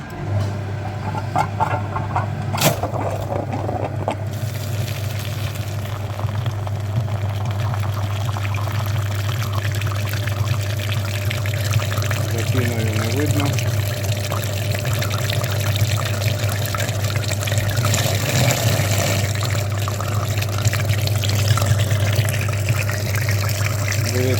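A flushing machine pumps water through the heater core radiator of a Honda Pilot, a steady low pump hum under running, trickling liquid, close by, with a few faint knocks.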